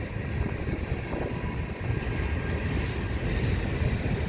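BNSF freight train cars rolling through a rail yard, a steady low rumble and rattle of wheels and couplings holding at a constant distance throughout, with no voices.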